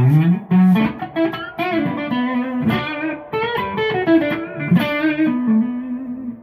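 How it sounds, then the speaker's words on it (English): An electric guitar played through an OCD overdrive pedal rings out with a crunchy, saturated distorted tone, picking a melodic riff with sustained notes, loud and up front, with no talking. "Now let's put on some distortion."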